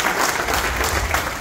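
Audience applause greets guests taking their seats on stage at a DJ event gathering, a steady, dense burst of clapping from a crowd that fills the moment without any talk over it.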